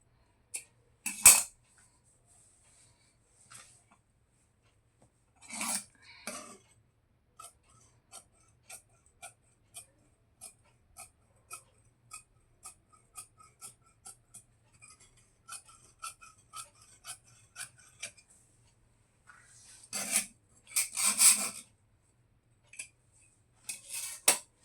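Scissors cutting fabric for a boat neck blouse, a slow run of faint, crisp snips at a regular pace, framed by louder rustling handling bursts at the start and end.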